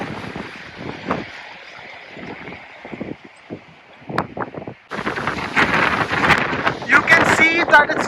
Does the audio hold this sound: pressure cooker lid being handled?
no